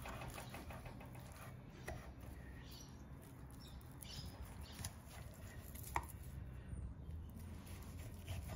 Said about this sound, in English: First, we're gonna cut the meat, 1 centimeter.